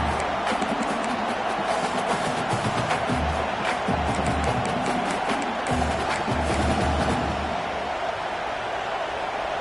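A football stadium crowd roars in a dense, sustained wash of cheering and noise that holds loud throughout, with surges and a few lulls, no clear voice standing out.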